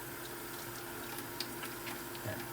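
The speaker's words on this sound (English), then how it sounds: "Get a little hot water running." Hot water runs steadily from a tap into a sink, a constant close splashing hiss with no talk.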